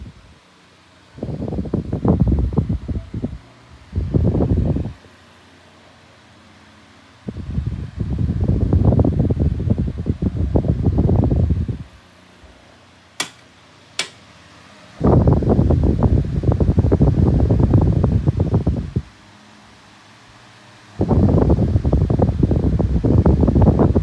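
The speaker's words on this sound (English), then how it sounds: "You can probably hear the rotors kind of grinding up against the bearings in this one" Two 9-inch Kuo Horng desk fans whir in alternating bursts as they oscillate, a rough grinding hum from rotors rubbing the bearings rising and falling, with quiet gaps and a couple of sharp clicks.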